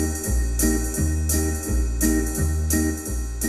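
Swing-style intro pattern playing on a General Music WK-4plus arranger keyboard: steady bass and chords with bright cymbal hits on a regular beat, loud and continuous, no voices.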